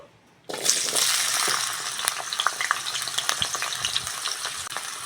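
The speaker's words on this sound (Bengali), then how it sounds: "তেল ভালোভাবে গরম হয়ে গেছে আলুটা দিয়ে দেবো কেটে ধুয়ে রাখা আলু" Cut, washed potatoes go into hot mustard oil in a kadai and start frying at once, a loud, steady crackling sizzle that stays close and busy after the first brief quiet moment.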